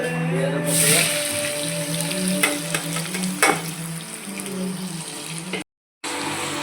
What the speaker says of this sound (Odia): ତେଲ ଗରମ ହେଇଯିବା ପରେ ପିଆଜ ପକେଇବା